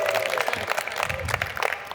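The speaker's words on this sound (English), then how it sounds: "we reserve the biggest round of applause for those handsome gentlemen" Wedding guests clapping for the groomsmen at a ceremony, a brief burst of scattered applause with some voices mixed in under a speaker talking over it.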